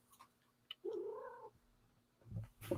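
A cat gives a soft, drawn-out cooing meow, close and clear, followed by brief rustling handling noise in a quiet indoor room.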